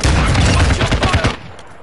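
Rapid automatic gunfire in a tactical shooter video game, loud dense bursts of shots in quick succession that cut off abruptly into quiet.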